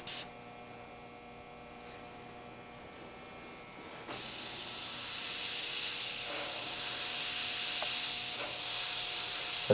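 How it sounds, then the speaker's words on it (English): Spray paint can hissing as paint is directed at the edge of sticky masking paper for a beveled edge finish: a short burst, a pause, then a loud continuous close-up spray lasting several seconds. "As I'm spraying this, I'm directing my paint to the edge of this sticky paper."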